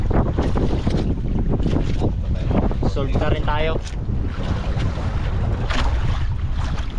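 Strong wind and rough waves surround a small hand-line fishing boat at sea, a steady, loud rush of wind buffeting the microphone throughout, with people talking over it.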